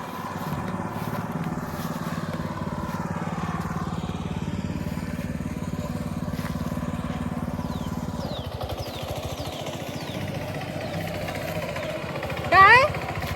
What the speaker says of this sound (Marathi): आता पप्पाने ट्रॅक्टर सुरू केल्याने हा